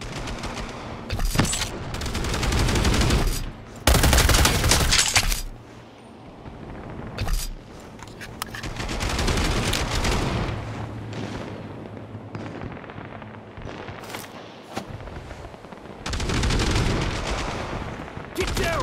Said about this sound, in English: Throwing a grenade! Grenade!